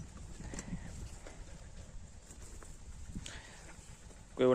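A bullock cart rolls along on a farm, the bullocks' hooves clip-clopping in an uneven, fairly soft rhythm, with a brief louder burst and a voice near the end.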